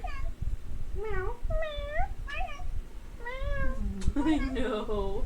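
Gooby, a pet cat, meowing repeatedly and close by, a quick series of short, rising and falling meows and chirps, with a person talking softly in between.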